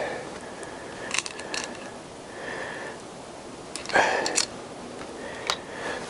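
Close mechanical clicks and ratcheting on a Triumph Tiger 955i front brake being tightened back up, a few sharp bursts spread between quieter pauses.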